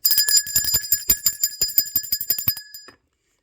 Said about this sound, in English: Let's ring the bell for that.